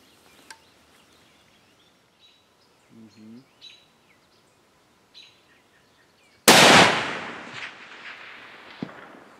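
A single loud rifle shot from a 300 Win Mag cracks out at a groundhog 620 yards away, its sharp blast decaying slowly into a rolling echo after a few quiet seconds of faint birdsong.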